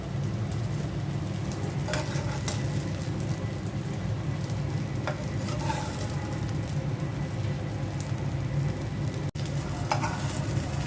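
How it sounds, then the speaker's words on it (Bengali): Eggplant and tomato sizzle steadily in a hot frying pan, a continuous crackling hiss with occasional louder pops and clinks, close and without talk. "বেগুন আর টমেটোটা ভাজা হয়ে গেছে"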